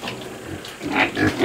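A pig on a farm gives low grunts and snuffling noises up close, growing louder toward the end, with no talk.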